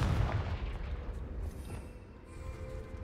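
A low, rumbling explosive blast from the Confringo spell in Hogwarts Legacy, a muffled boom that rolls on as a steady, fairly quiet roar with no clear sharp attack.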